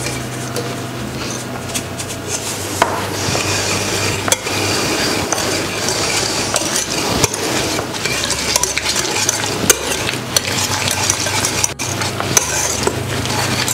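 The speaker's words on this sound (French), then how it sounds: "Je mélange en même temps, hein." A spoon stirs sugar and pectin into hot fruit in a pan, making steady close scraping and clinking over a soft sizzle, continuous with no talking.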